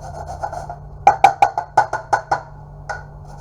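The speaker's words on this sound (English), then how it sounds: "we grate this orange and we call that zest" Orange zest rubbed off a whole orange on a grater for a Jamaican black fruit cake, heard as about seven quick rasping strokes in a steady rhythm, close and fairly loud, with faint scraping before and after.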